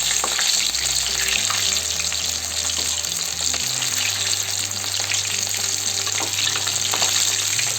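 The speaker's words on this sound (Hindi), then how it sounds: "देखिए कि कितना अच्छी हमारी कोटिंग मशरूम्स पर लगी है और वो ऐसे ही कितनी अच्छी तरह से फ्राई हो रहे हैं" Coated chili mushrooms frying in a pan, a steady, loud, hissing sizzle with bubbling crackle that stays even throughout, over a low background hum; no voices.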